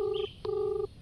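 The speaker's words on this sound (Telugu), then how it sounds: "రింగ్ అవుతుంది, మళ్ళీ రింగ్ అవుతుంది." A phone call ringing tone sounds twice in short, clear electronic beeps separated by a brief gap, quiet and alone with no talking.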